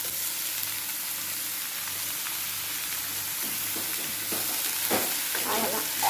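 Boiled cluster beans are tossed with softened onion in a pan with salt, producing a continuous sizzling sauté that grows busier toward the end with spatula scrapes and stirring clatter.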